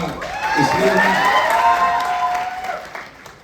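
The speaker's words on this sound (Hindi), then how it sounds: "ये किस लिए ताली मारी थी?" A live audience at an interview claps and cheers, with excited voices rising over the applause before it fades toward the end.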